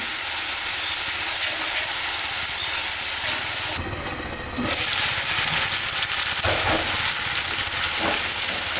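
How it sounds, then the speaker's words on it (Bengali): Garlic and ginger paste masala with chili powder frying in oil for a banana stem curry, a loud continuous sizzle with brief stirring scrapes and a momentary hiss burst midway. "রসুন বাটা আদা বাটা মশলাটা ভালো করে কষাই নিতে হবে"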